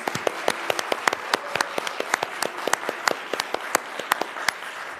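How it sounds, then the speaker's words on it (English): Congregation at a Palm Sunday church service applauding for John, a steady round of sparse, distinct hand claps from a modest crowd, fairly close and even throughout. "Can we just give John a round of applause?"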